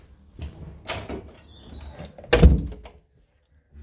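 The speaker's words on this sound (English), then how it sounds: "Bathroom door open and close is fine." A bathroom door in a rental property being opened and then shut, a soft creak and shuffle followed by a solid close, near and alone in a quiet room.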